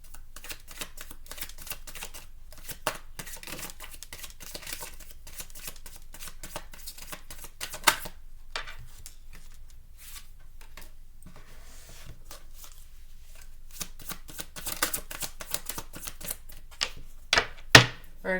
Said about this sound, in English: I'm going to shuffle it out for you.